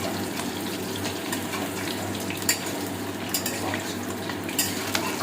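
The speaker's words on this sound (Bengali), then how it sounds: "আলুটা লাল লাল করে আমরা ভেজে নেব।" Potatoes frying in oil in a home-kitchen pan, a steady close sizzle with occasional scraping clicks of a spatula stirring, no voices.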